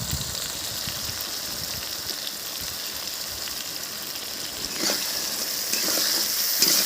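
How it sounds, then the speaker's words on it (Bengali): A paste of ground cashew, poppy seed and ginger sautés in a pan, a steady close sizzle and frying hiss with stirring scrapes, growing slightly louder toward the end. "কাজু, পোস্ত, আদা বাটা দিয়ে দিলাম। সুন্দর করে আমি কষতে থাকবো।"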